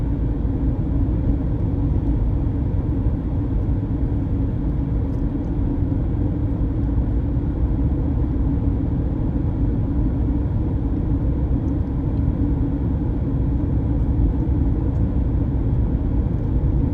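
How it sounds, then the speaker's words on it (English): Traffic on a roadway near Las Vegas and Mora, New Mexico: a steady, continuous low rumble of cars going by, with no distinct individual passes, fairly loud and without any talk. "I was really surprised and shocked when the cars were going by on this roadway here, and Miss Lily wanted"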